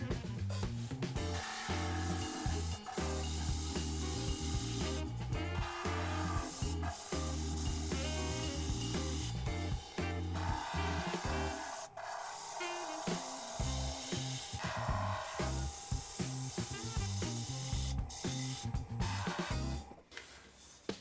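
A wood lathe parting cut is made with a piercing tool, a loud continuous scraping whir with a humming rhythmic drone that shifts in tone partway through and stops near the end.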